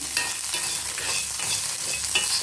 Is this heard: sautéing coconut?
yes